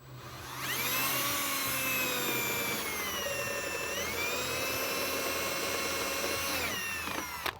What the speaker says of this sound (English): I'll run the drill down through here